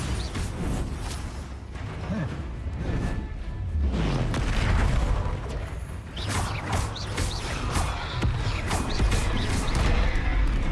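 Spell explosions and magic impacts from the Hogwarts Legacy video game, repeated booms and crashes with mechanical clatter, moderately loud and continuous with several sharp bursts.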